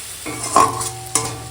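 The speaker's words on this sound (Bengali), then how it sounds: "তো দেখো এখন কলমি শাক ভাজাটা হয়ে গেছে এবার তলায় লেগে যাচ্ছে" Water spinach (kolmi shak) stir-fried in a pan, a close sizzle broken by two sharp scraping stirs of the spatula as the greens start catching on the bottom.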